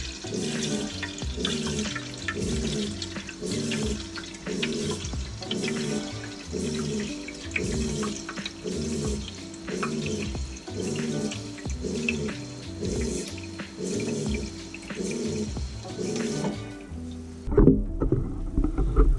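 Water running from an Oxygenics RV shower head on its low setting, a steady close spray with a regular pulsing rhythm that continues until it stops near the end.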